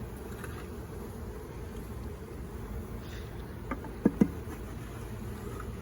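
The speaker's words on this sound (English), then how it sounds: "Now I'm worried the bees all around over here, Tillman." Honeybees drone steadily around a community garden hive, a continuous low buzz that stays fairly faint throughout, with two brief sharp taps or knocks near the end.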